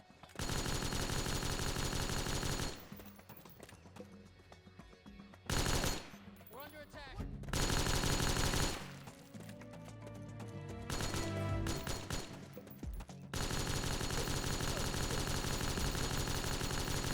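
Automatic gunfire in the video game Metal Gear Solid 4: Guns of the Patriots, Act 5, comes in loud, dense sustained bursts, broken by a few shorter, quieter stretches.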